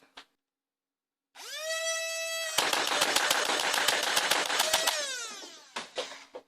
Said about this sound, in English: Let's try to mag dump it.